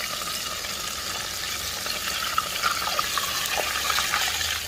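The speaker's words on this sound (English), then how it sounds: "it's not really dropping my oil that much, so they're frying faster" Steady loud sizzling of steak frying in hot oil, a continuous crackling hiss with occasional small pops, no voices.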